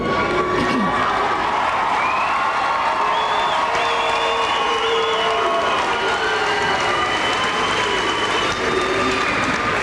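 A crowd at the Admiral King High School commencement for the Class of 1998 claps and cheers in a steady, dense wash that lasts the whole stretch, loud and continuous with no break.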